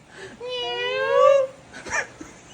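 A person imitates a cat with a drawn-out, wavering meow that rises and falls, followed by a shorter second mew-like cry, fairly close and alone.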